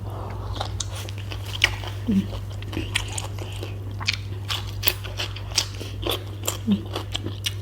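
Crunchy biting and chewing of Thai som tam with crab and fermented fish, eaten alongside silkworm pupae and fried noodles, close to the mic with irregular crisp crunches over a steady low hum.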